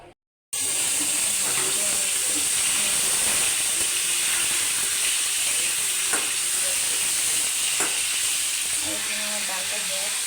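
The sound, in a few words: turmeric, chili and coriander powder frying in a pan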